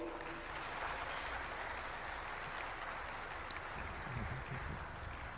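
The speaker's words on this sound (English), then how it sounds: "Distinguished delegates, a bigger round of applause." Delegates at an African heads of state summit on human resources applaud in a large hall, a steady, sustained roar of clapping that holds at an even level throughout.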